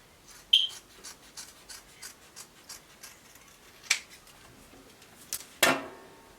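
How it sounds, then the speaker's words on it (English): Scissors snipping through fabric while cutting out the back neckline of a short bubu dress, a handful of quiet, sparse crisp snips and small clicks, close and faint in a quiet room. "I will cut out the back neckline."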